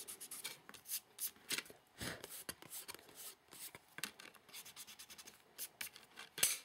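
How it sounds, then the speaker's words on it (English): A pencil guideline is erased from a handmade card. Soft, quiet rubbing strokes come in short bursts with brief pauses, close by and faint. No talking is heard. "I'm just going to go ahead and just erase this now"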